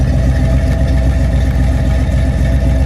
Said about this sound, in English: listen to that idle from the back